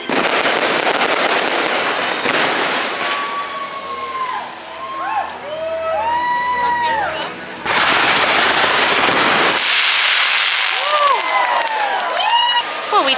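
Fireworks crackle and pop at a night event at Disneyland, with dense crackling bursts and whistling streaks over loud crowd noise, easing off and then a brighter burst near the end.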